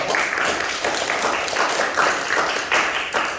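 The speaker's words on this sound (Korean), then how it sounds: "우리 중심부 서모 형제님한테 박수 부탁드립니다" Crowd applause at the opening ceremony of a logistics center in Daegu-Gyeongbuk, with the audience clapping for an attendee in a steady, evenly loud wash that continues through the whole stretch.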